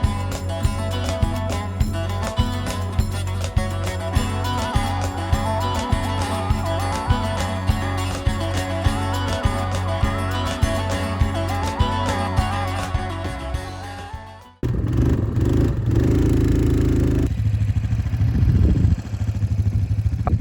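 A quad bike engine runs in the Sahara desert with a steady rhythmic putter for several seconds, then shifts abruptly to a rougher, louder rumble with wind buffeting.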